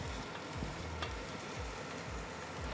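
Chicken frying in a pan over a fire, a steady close sizzle with faint stirring scrapes, alone without talk.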